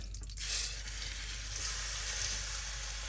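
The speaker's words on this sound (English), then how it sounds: "And now I'm going to saute meat." Meat sautéing for a Greek stifado, a steady loud sizzle in a hot pan with a brief stir near the start and no talk.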